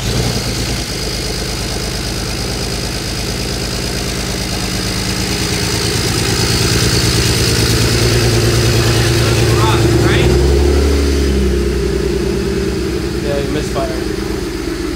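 A BMW E92 335i with its N54 twin-turbo inline-six idles loudly close by, running rough and uneven from a misfire, with a steady low rumble throughout and people talking briefly over it.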